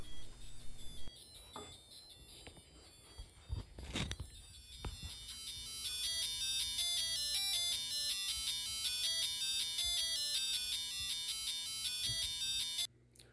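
Audio played back through a homemade wireless phone built into an NES Zapper light gun, heard close to the microphone as a steady, loud, bright tonal melody with some handling knocks at the start and an abrupt cutoff.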